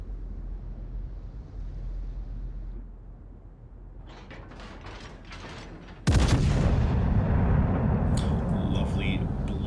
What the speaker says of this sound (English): Lovely blue AP shells coming out from the George